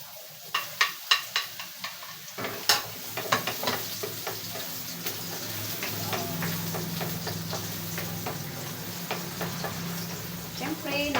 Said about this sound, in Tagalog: magigisa na tayo sa ating pansit